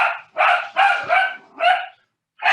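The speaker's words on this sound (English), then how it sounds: "the damn dog's mad about it. Even the dog's upset about it." A dog barks nearby in a room, five loud, sharp barks in quick irregular succession with a short pause before the last.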